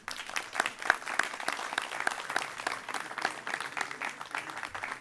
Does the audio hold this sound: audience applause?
yes